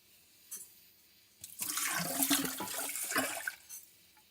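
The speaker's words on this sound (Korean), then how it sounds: "이제 부어 보겠습니다" Drain cleaner is poured into a clogged drain, a faint click followed by a sustained gurgling rush of liquid lasting about two seconds before tapering off.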